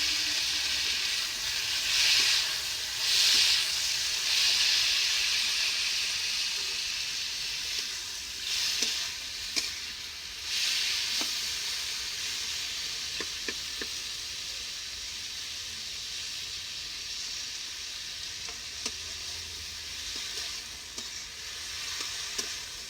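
Potatoes drop into hot oil already crackling with blackened dried red chillies, making a loud, continuous sizzle with bursts of stirring and scraping, and no one talking.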